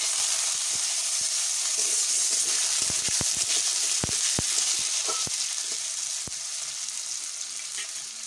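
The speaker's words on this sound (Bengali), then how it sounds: "তো এখন আমি আলুগুলোকে আগে ভেজে নিব।" Potatoes fry in hot oil in a pan with a dense, continuous crackling sizzle, broken by sharp pops and spatters throughout, with no voices.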